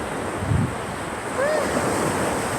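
Steady wind rushing across the microphone outdoors, with a roar of surf behind it and faint brief voices.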